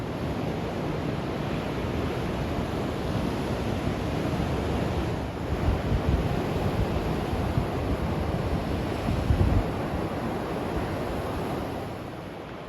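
Steady broadband roar of ocean swells and gusting wind at sea on a sailing passage to La Gomera, continuous and loud with brief surges of wave wash, no voices.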